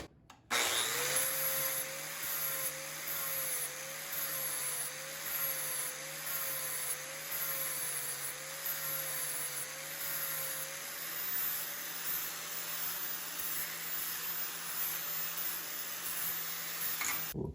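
A 4.5 inch angle grinder with a flap disc flattens the end of a forged square steel punch, a loud continuous whine with a steady motor hum and wavering pitch that holds for the whole stretch.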